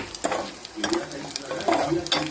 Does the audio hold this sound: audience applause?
no